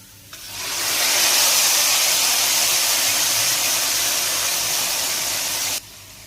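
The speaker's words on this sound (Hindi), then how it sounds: "लहसुन को लाइट सा गोल्डन करेंगे और लगा देंगे कड़ी के ऊपर तड़का" Loud, steady sizzling hiss of hot oil with lightly golden garlic poured onto pakora kadhi curry, rising quickly and holding for several seconds before cutting off abruptly.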